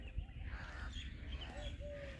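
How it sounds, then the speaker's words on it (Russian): Birds call in a green park in Dubai, faint whistled chirps and a couple of thin tonal notes over a low hum of outdoor background, with no talk. "Слышите, как птички поют?"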